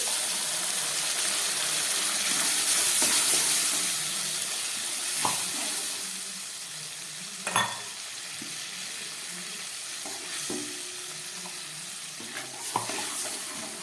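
Spice paste sizzling and frying in a pan with already fried tomato and onion, a steady hissing sizzle with occasional sharp stirring clacks of a spoon against the pan, close and continuous without speech.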